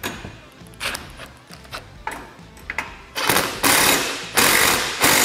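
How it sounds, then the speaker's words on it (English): Ratchet clicking repeatedly while tightening hardware on a Polaris RZR Pro XP cargo rack, quiet short bursts of clicks at first, then louder, denser ratcheting runs close up toward the end. "we're gonna go ahead and tighten the hardware up on this side as well"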